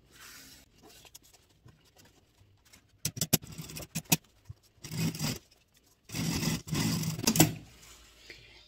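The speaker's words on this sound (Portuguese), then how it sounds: "Já costurei aqui, vou costurar agora a outra alça, a mesma coisa" Sewing machine stitching a fabric strap for a toilet paper holder, several short bursts of rapid mechanical whirring separated by quiet pauses and handling noises.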